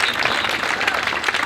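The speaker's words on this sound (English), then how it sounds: "Let's give a round of applause for Joshua Palladino." Audience at a Republican district debate applauding a candidate, a loud, dense, continuous wash of clapping close by, holding steady for the full length with no voices on top.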